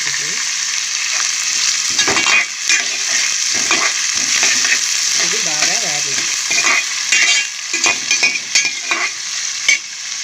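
Onions and green chillies fry in oil in a pan for a mutton drumstick curry, giving a continuous bright sizzle with intermittent stirring scrapes and clinks close by.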